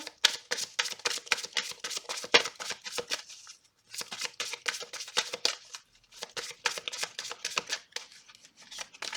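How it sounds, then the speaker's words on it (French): Tarot cards are shuffled in quick papery riffles, three close bursts of rapid flicking broken by short pauses, crisp and near with no talking. "On va tirer 3 cartes."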